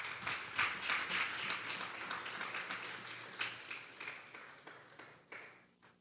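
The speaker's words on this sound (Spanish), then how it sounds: "Denle un fuerte aplauso pues al Señor." Church congregation applauding at a Sunday service, a dense wash of many hands clapping that stays steady and then thins out toward the end, with no talk over it.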